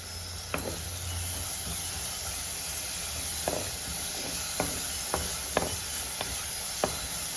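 Curry leaves and onions fry in hot oil for a tomato dish, a constant close sizzle broken by sharp, irregular clicks of a spoon stirring against the pan, with no one speaking.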